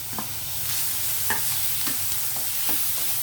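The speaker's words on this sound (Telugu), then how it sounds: "ఇప్పుడు పచ్చిమిర్చి కూడా వేసేస్తున్నాను నేను." Capsicum and green chillies fry in a pan with a soft, steady sizzle, broken by a few scraping strokes of a spoon stirring them, close but fairly quiet and without speech.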